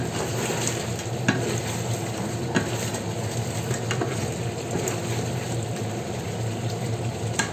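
Lobster cooks in coconut milk in a pan and is stirred with steady scraping, over a constant loud sizzle and bubbling, with no voices.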